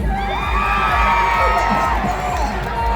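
A large outdoor political rally crowd in Davao City cheers, whoops and shouts continuously, a dense roar of many voices with amplified sound echoing over it.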